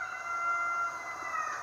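Roosters crow at midday in a neighbour's yard, a sustained, moderately distant cock-a-doodle-doo call over faint background noise.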